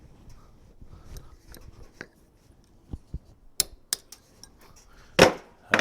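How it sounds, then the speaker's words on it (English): Sharp metallic taps and knocks as a pin is punched out of a 1918 Dodge water pump held in a vise, scattered single strikes with a louder clank near the end, close and fairly quiet. "let me put it in the vise and we'll see if we can't just punch that one out"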